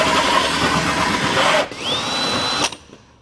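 A large drill bit bores steadily through a boat deck while a seat is being fitted, a loud continuous whine that rises in pitch before cutting off abruptly near the end.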